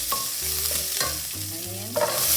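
Ingredients for a South Indian chutney fry in a pan and are stirred with a utensil, giving clattering strokes over a steady sizzle with a low hum underneath.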